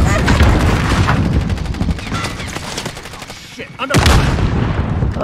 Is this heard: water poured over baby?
no